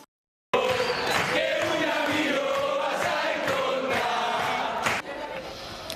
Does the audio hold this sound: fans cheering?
yes